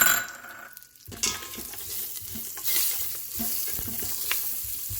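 Green chilies, cashews and raisins fry in hot oil inside an Instant Pot, a sizzle that starts abruptly after a brief quiet moment, then continues with stirring scrapes and small clatters.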